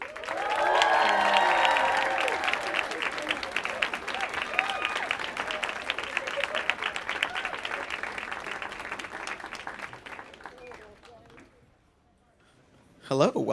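Studio audience applauding and cheering to welcome two guests onto a talk show, a loud sustained crowd roar that gradually fades, then voices begin speaking near the end.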